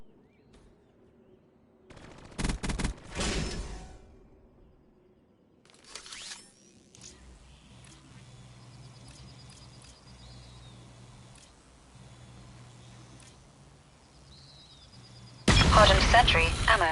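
Hardened sentry gun in a video game firing in short mechanical bursts, with sparse clicks and a low hum between them, then a loud dense burst at the end.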